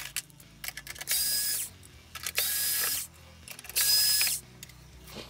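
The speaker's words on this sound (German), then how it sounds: "So, jetzt schrauben wir die Schrauben erstmal auf von dem Drehkranz." Three bursts of a small power screwdriver whirring as it loosens screws on the turret ring of a 1/16 scale Heng Long Leopard 2 A6 RC tank, separated by handling clicks and ratcheting, close and loud.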